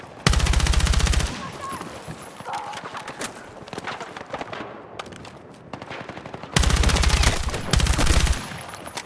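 Bursts of rapid automatic gunfire in the Battlefield 6 campaign, a loud sustained volley at the start and another near the end, with scattered shots, combat noise and French voices in between.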